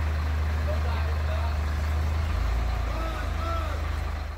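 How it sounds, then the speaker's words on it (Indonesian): A heavy concrete mixer truck loaded with about five cubic metres of concrete rumbles in at a construction site, its deep engine drone loud and steady throughout while someone talks over it. "ada truk molen lain yang datang dari arah berbeda"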